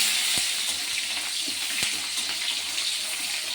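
Chopped onion fries in hot oil for an egg curry, giving a loud, continuous hissing sizzle close by with a few soft knocks and no voices.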